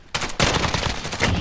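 EBR rifle gunfire in a shooter game: a short, loud burst of rapid shots cracking close by, dense and sharp over about a second.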